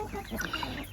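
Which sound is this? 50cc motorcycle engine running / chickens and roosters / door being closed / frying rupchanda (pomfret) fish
chickens and roosters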